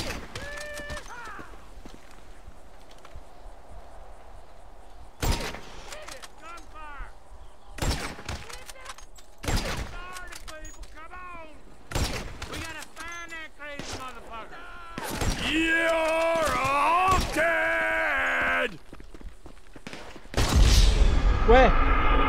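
Gunfire in the video game GTA V, heard during a farm shootout, comes as several sharp, loud shots and short bursts spaced a few seconds apart, with voices speaking between and over them.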